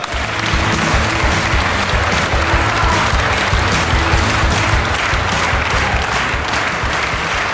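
A studio audience on a TV program claps in a dense, steady ovation that welcomes the tallest man in Armenia as a guest, lasting the whole stretch without letup.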